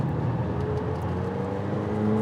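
A McLaren 720S sports car driving a mountain road, its engine droning steadily at moderate volume with a rising whine near the end, heard alone without talk.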